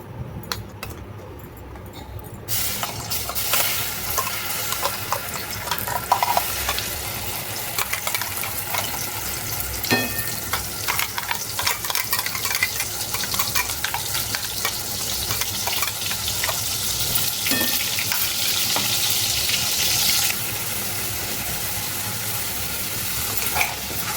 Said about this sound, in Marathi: चांगलं भाजून घ्यायचंय, कारण ना कच्चा टोमॅटो, कच्चा कांदा हे सर्व वापरलेलं होतं